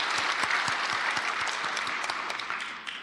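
A church congregation breaks into hearty applause, dense overlapping clapping from a large crowd that stays steady for a few seconds before gradually thinning out.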